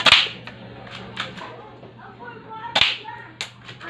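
Gunshots from a firearm fired at a paper target from a standing shooting position, sharp loud cracks at the start and again near 2.8 seconds, with quieter pops between them.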